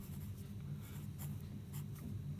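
Faint, steady scratching of writing on a board during a Class IX maths lesson, continuous soft strokes with no talking, low in level against a quiet room.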